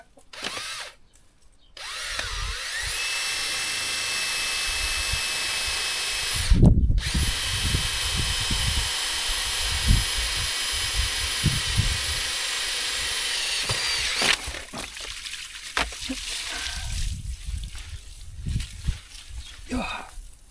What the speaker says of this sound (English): now all I'm going to do is drill through here and try not to get too wet